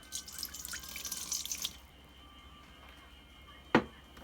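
Water is poured little by little into takoyaki batter, giving a close, trickling splash that stops partway, then a single distinct drip or tap later, with no voice present.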